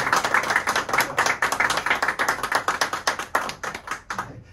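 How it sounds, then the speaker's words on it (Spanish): A small group in an official committee meeting claps for a colleague's birthday, sharp individual hand claps in a quick, fairly even rhythm that thin out and fade near the end, close and moderately loud. "le damos un fuerte aplauso"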